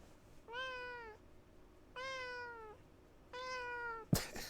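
A cat in the video game Static Dread: The Lighthouse gives three clear, drawn-out meows spaced evenly apart, followed by a sharp click.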